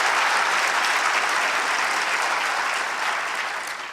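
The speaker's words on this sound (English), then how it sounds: "Let's give him a round of applause." Conference audience at an actuarial society convention's closing plenary breaks into sustained, dense applause, steady and full for several seconds before starting to thin out toward the end; no talking over it.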